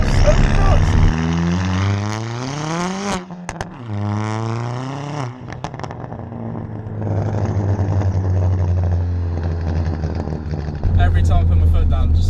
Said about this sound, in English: it makes a good sound out the back, innit? That's straight for exhaust.